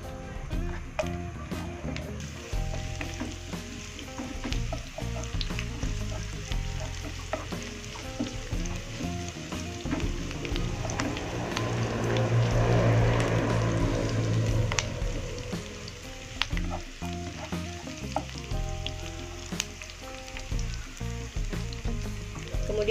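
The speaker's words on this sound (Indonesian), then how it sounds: "Kita panaskan minyak. Kita masukkan bawang putih," Garlic and shallots fry in hot oil, a steady close sizzle with a louder surge midway, under faint background hum, no talking.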